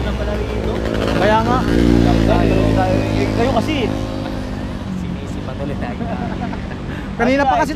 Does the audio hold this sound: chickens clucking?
no